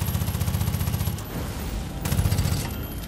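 Rapid automatic gunfire in the video game Far Cry 5, two loud sustained bursts of fast repeating shots separated by a brief pause, close and dominant.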